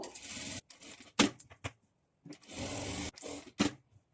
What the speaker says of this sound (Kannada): ಈಗ ಇದನ್ನು ಓಪನ್ ಮಾಡಿಕೊಂಡು ಮೇಲೆ ಒಂದು ಟಾಪ್ ಸ್ಟಿಚ್ ಹಾಕೊಳ್ಬೇಕು